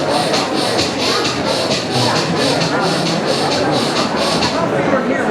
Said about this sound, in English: a breath that were to trigger your flight and fight response is Kapalabhati,